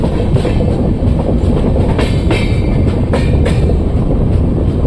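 Loud, continuous rumble of the Mysore–Ajmer special passenger train rolling into a station platform close up, with rhythmic clattering of wheels over rail joints and brief metallic squeals.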